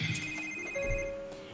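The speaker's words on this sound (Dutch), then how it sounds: "Je belt beneden op mijn telefoon terwijl ik gewoon naast je sta." A telephone rings in The Sims 3 video game with a steady electronic ringtone, fairly quiet and continuous, over a low game background.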